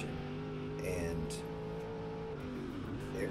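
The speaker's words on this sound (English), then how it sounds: "Like as he gasses it up, you can see that rear end wrapping" A dirt late model race car accelerates under throttle, its engine drone loud and steady with rising and falling harmonic tones, close by and alone without talk.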